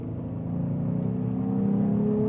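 V6 Ram 1500 fitted with a K&N Next Gen cold air intake revving, a steady rising engine hum that grows louder over about two seconds, heard close with no voices.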